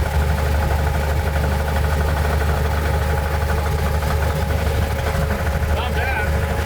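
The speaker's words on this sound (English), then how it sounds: "we're having engine problems with the carburetor, backfiring, and also with some mystery knock" The engine of an old Chevy with carburetor trouble, backfiring and a mystery knock idles in a steady, droning rumble throughout, heard from inside or near the vehicle. Faint voices come through beneath it.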